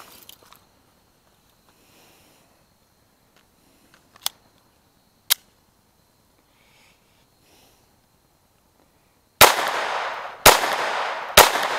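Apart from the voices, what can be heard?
Advantage Arms pistol firing CCI AR Tactical ammo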